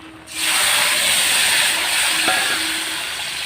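Hot oil tempering of nigella seeds and chopped onion poured into a fish and cauliflower curry, erupting into a sudden loud, close steam hiss that then settles into a sustained sizzle.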